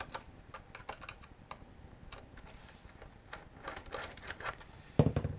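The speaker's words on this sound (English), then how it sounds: "So I'm going to grab a screwdriver here and take out these screws." A screwdriver backs screws out of the back plate of an airsoft P90 gun, giving faint, irregular clicks and small ticks over a quiet room, with a sharper clack at the end.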